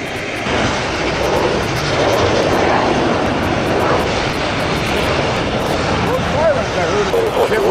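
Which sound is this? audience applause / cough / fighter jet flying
fighter jet flying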